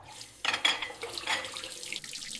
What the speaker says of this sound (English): I wash the dishes.